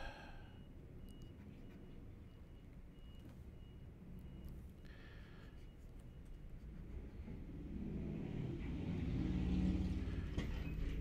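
A truck passing on a road outdoors, a low rumble that builds and grows louder toward the end as it draws near, with steady traffic noise beneath.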